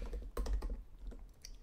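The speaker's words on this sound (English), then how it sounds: "And I'm just hitting control spacebar." Computer keyboard keys pressed while coding an Android app, a short burst of several crisp clicks including a control-spacebar shortcut, close and fairly quiet with no voice.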